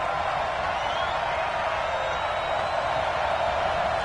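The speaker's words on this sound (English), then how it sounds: "The crowd here in the Dome making things difficult." Steady roar of a video-game football stadium crowd inside a domed arena, a dense continuous wash of noise held at one level throughout with no distinct cheers rising out of it.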